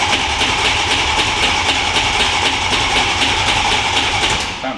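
A BMW S65 V8 fitted in an E30 M3 track car runs in a dense, constant roar with a fast pulsing beat, loud and close, and holds steady before easing slightly at the end.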